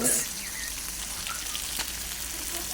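Tilapia fish curry frying and stirred in a pan, a soft steady sizzle with a few faint scraping strokes, fairly quiet and brief.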